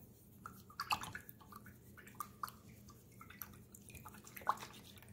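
A paintbrush being rinsed in a water jar during acrylic painting makes faint, close, irregular drips, swishes and small splashes in quick bursts. The room around it is otherwise quiet.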